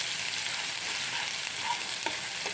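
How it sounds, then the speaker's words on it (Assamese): Ginger garlic paste frying with browned onions in a pan for a home-style local chicken dish, giving a steady close sizzle with a few soft scrapes of stirring and no voices. "এতিয়া আদা নহৰু পেষ্টখিনি ভালদৰে লৰাই আছোঁ।"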